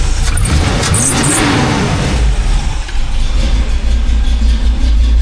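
A cammed C10 squarebody truck engine with a brand-new Holley carburetor, loud and close: it revs up, then drops back to a deep, lumpy idle that rumbles steadily.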